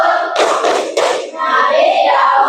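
Classroom clapping chant about the holy books, with a group of pupils chanting loudly and several sharp claps bursting out between the sung phrases.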